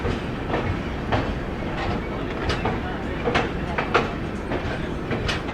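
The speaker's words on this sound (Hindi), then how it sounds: "अपनी ट्रेन का डिपार्चर हो चुका है कटिहार जंक्शन के प्लेटफॉर्म नंबर 1 से" The New Delhi-Dibrugarh Rajdhani Express rolls out of Katihar Junction platform 1, heard from inside a 3AC coach as a steady rumble with rhythmic clickety-clack wheel beats over rail joints, loud and continuous.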